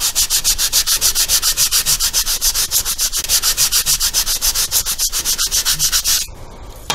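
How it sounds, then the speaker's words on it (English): Rhythmic back-and-forth fine sanding on a balsa-style vertical stabilizer part for a SIG Kougar model airplane, close and loud strokes at a steady pace of roughly four per second, stopping abruptly near the end. "Maybe just a little fine sanding here."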